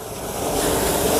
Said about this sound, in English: So I'm going to go ahead and rinse this off.